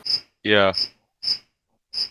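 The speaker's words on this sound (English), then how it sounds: "You're cutting out, and I can hear like crickets." Crickets chirp in a garage, sharp short trills repeating at a steady pace, clear and close, with one brief spoken word between chirps.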